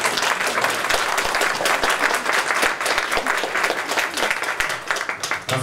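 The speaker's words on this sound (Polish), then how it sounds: "Mogą być piękne brawa." Concert audience applause welcoming a soloist: dense, loud clapping from a full hall, sustained and even throughout with no voices on top.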